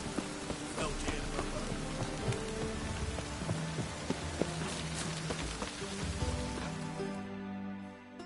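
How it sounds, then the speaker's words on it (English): Steady rain in a video game patters and hisses across surfaces, a dense, even wash of drops with faint low rumbling underneath. "Rain was coming."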